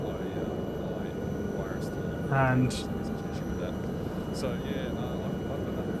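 A helicopter's rotor and engine drone steadily at moderate level in Microsoft Flight Simulator 2024 over Andes terrain, an even hum beneath someone talking.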